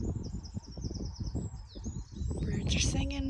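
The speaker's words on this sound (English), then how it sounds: "Birds are singing" Small birds chirp and twitter outside an old Irish cottage on a wet, windy morning, faint high calls over rustling and low handling noise, with a brief louder call near the end.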